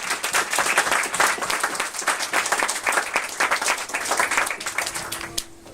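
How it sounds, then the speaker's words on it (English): Guests at a speech gathering applaud after a toast to love, health and happiness. The clapping is crisp and rhythmic, from a modest group nearby, and it tapers off at the very end. "A big round of applause."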